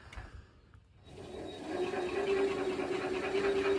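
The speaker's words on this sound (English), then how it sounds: "If I run the motor," A homemade electric tractor's motor running while in gear and making an abnormal sound, starting after a brief quiet moment and settling into a steady, whining hum with a rough mechanical buzz, fairly loud and alone.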